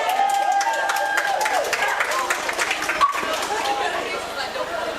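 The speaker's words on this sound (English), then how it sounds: "Applause there for Ryan, who's carried to the bench." Spectators clap and chatter at a women's rugby league match between Featherstone Rovers and Wakefield Trinity, a scattered crowd applauding at moderate distance with voices mixed in.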